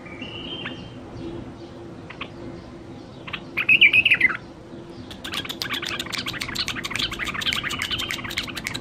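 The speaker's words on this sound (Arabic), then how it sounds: "صدق بلبل اليف مال ونسه" A pet bulbul gives a short, bright trilling call partway through, then breaks into continuous rapid chirping over a steady background hum, close to the microphone and with no voices.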